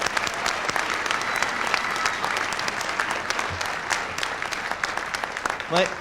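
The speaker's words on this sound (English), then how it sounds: "Round of applause for a good group" Applause from the crowd at a 1999 Art Institute of Seattle graduation ceremony, a dense continuous patter of many hands clapping throughout, with a brief voice near the end.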